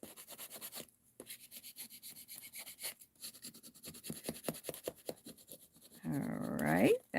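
Paper scraps rubbed onto a junk journal page make soft, close scratchy strokes in an uneven rhythm, quiet overall, ending in a louder swelling rustle.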